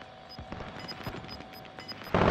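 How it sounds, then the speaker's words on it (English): In Call of Duty: Modern Warfare, an allied cluster strike lands as a rapid string of distant, crackling blasts, closed by a sudden loud burst of noise at the end. "Allied cluster strike arriving."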